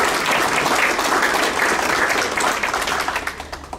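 Audience applause for an award honoree at a school district's distinguished staff awards ceremony, dense steady clapping from a full room that holds for several seconds, then thins and tapers toward the end.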